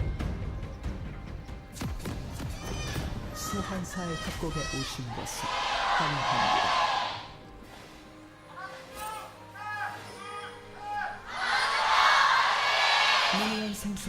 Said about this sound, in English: big cheers from the crowd here at Lol Park